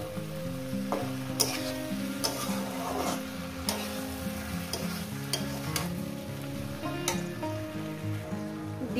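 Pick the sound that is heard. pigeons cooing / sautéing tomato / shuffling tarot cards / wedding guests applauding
sautéing tomato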